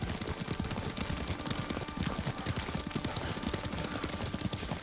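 Horse hoofbeats during riding in the video game Ghost of Tsushima, a quick continuous clip-clop gallop under a dense wash of ambient noise.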